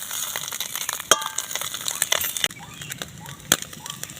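Small mourola fish fry in a pan, giving a soft, steady sizzle broken by sharp clinks and scrapes of a spatula against the metal, close and fairly quiet.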